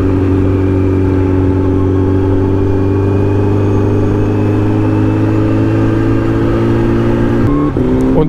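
An Exeet three-wheeled vehicle powered by a Kawasaki H2 supercharged engine accelerates hard, a loud, steady droning engine tone rising in pitch, close up, with a brief change near the end.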